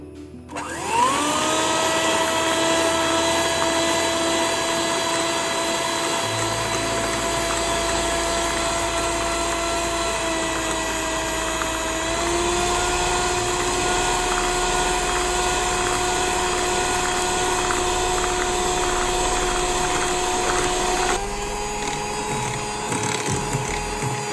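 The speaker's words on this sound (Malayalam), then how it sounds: "ഇപ്പോൾ എഗ്ഗ് ബീറ്റ് ചെയ്ത് കഴിഞ്ഞിട്ടുണ്ട്." Electric mixer beating eggs with sugar and salt for fudgy brownie batter, a loud steady motor whine that rises as it spins up, holds at a constant pitch and shifts slightly near the end.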